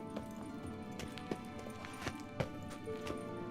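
Horse hooves clip-clopping in The Witcher 3, a steady run of sharp, irregular hoofbeats over a dense background of game ambience and music, moderately loud.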